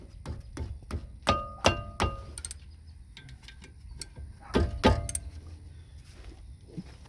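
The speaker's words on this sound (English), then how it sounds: "Change to your 14 socket and tighten it back up" A 14 mm socket ratchet tightens a front brake bolt on a 1999 Toyota Avalon XLS. Scattered metallic clicks and clinks come in short bursts with quiet gaps and a few dull knocks, close up and with no talk.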